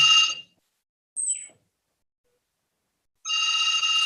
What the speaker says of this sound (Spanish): Están llamando por teléfono acá,